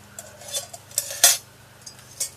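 A Kelly Kettle's metal fire pan is handled, giving a string of light metallic clinks and taps with one sharper clank, close and alone.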